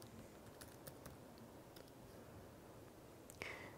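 Quiet, close clicks of a computer keyboard as someone types, in short irregular bursts over a steady background hiss.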